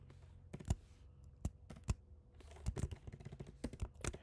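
Keys clatter on a computer keyboard while a short Python print statement is typed, irregular clicks and bursts at close range with quiet gaps between them and no talking.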